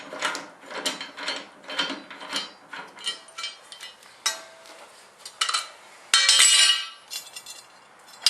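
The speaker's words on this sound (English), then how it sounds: "all I have to do is just spin the blade out, take the bolt off" A bolt comes off a commercial mower blade, giving faint, close metallic clicks and ratcheting taps in uneven bursts, with a brief louder scrape of metal near the end.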